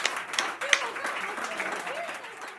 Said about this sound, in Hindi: जोरदार तालियों से उसे आमंत्रित करिए